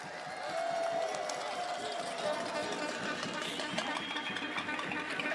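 Crowd noise at a political campaign launch: a dense, continuous wash of clapping and cheering from a large audience, steady and loud throughout, with voices mixed into the din.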